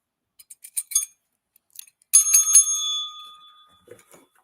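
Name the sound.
broken bell being rung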